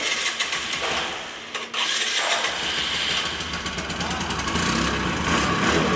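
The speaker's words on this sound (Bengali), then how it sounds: "ইঞ্জিনের সাউন্ড একদম সুপার" A Discover 100 cc motorcycle engine starts with a brief crank and catches, then runs at a steady, loud idle nearby, under a voice.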